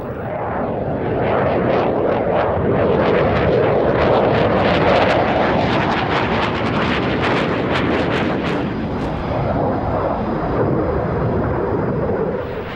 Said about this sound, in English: The display aircraft at the show was the latest export version.